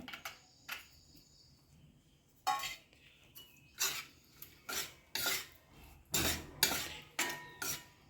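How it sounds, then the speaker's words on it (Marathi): A spoon scrapes and stirs in a metal pan as raisins go into wheat flour sheera, a series of short rasping strokes in an uneven rhythm, close and fairly quiet. "आता आपण यात मनुके घालून घेऊया।"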